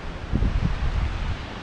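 Cold wind gusting outdoors on a trail, a steady low rumble with buffeting on the microphone, no talking.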